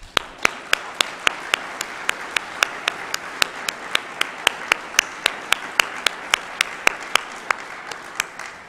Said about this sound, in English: So please give yourself a round of applause.